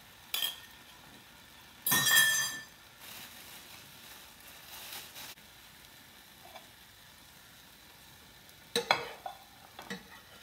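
Scrambled egg cooking in a frying pan for a ham, egg and cheddar cheese sandwich, with a soft steady sizzle, a louder burst of frying and a few light clinks of a utensil against the pan.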